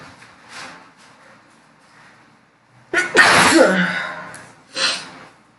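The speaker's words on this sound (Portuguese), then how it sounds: "Desculpa o espirro." A single loud, close sneeze bursts out after quiet murmuring, followed moments later by a shorter sharp exhale, in an indoor classroom-style lesson recording.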